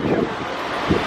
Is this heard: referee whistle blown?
no